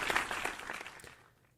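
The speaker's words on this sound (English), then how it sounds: "So round of applause for all of us" A small crowd applauding briefly at a podcast recap of the Cosmoverse 2023 crypto conference, a short patter of clapping that fades out within a second or two.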